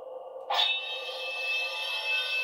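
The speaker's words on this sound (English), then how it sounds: "The drag effect is dragging your sword along the ground." A Star Wars Jedi: Survivor lightsaber drag effect: a low hum suddenly flares into a bright crackling buzz, then holds as a steady sizzling whine, close and alone.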